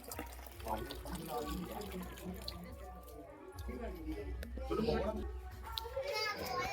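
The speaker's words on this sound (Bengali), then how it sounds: "এই যে এখন টাইম কল এসে গেছে, এই যে জলটা বন্ধ করেনি।" Water runs steadily from a tap left on in a home bathroom while someone bathes, a continuous splashing wash under the chatter of children and adults nearby.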